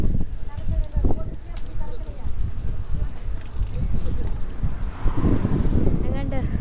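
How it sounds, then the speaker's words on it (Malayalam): Steady wind buffets the microphone outdoors near the sea, with a continuous low rumble and people talking over it. "നല്ല കാറ്റ്."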